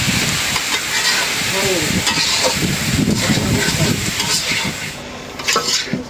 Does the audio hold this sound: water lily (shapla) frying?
yes